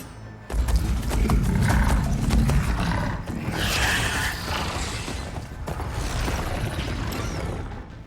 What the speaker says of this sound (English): They're riding machines!